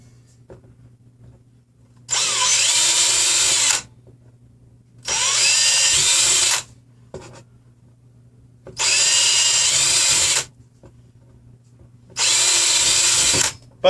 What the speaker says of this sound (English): now I have my holes, and I can go ahead and drill those out too